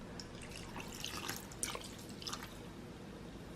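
Vinegar pours into a cup in a home kitchen while kilawin na pusit is prepared, making a soft, continuous watery trickle with a few brighter splashy drips, close and fairly quiet, with no talking.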